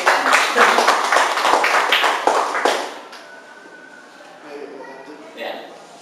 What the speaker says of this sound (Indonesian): Beri tepuk tangan untuk CEO kita.